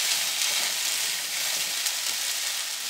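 Three medium onions cut into rings fry in a pan over medium heat, giving a steady, close, dense sizzle and hiss that stays even throughout with no one talking.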